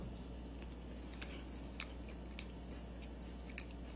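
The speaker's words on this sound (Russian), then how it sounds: "не пойму, что-то хрустит. Хрустит, как печенье." A crunchy sugar-free cookie made with oats and banana being chewed, heard as faint, scattered crisp crunches and clicks over a low steady background hum, with no talking.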